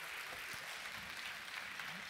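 An audience at a conference forum claps steadily, a dense wash of applause filling the whole clip at moderate volume.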